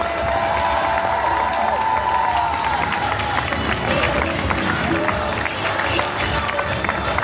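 Sustained audience applause and cheering fill a crowded chocolate fashion show hall at a chocolate fair, dense clapping steady and loud throughout with crowd noise and a voice faintly over it.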